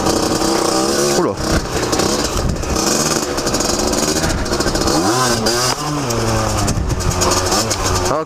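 A motorcycle engine still being run in is revved repeatedly to higher rpm, loud and close, its pitch climbing and falling in waves under some talk.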